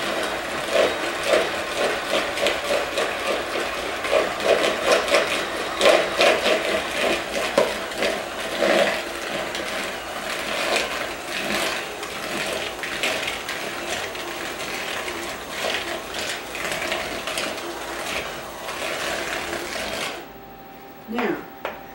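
A stand mixer works chocolate chip cookie dough, giving a steady mechanical whir with rhythmic clicking and knocking throughout before cutting off near the end.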